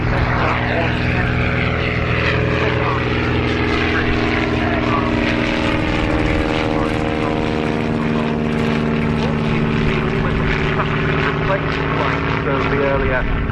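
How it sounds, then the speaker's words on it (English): A propeller-driven light military aircraft adapted from a civilian design makes a very short takeoff at the RAF Cosford Airshow, its engine droning loud and steady throughout with a strong tonal hum, while a commentator talks over it. "a very short takeoff for this aircraft, which was adapted from the civilian sector"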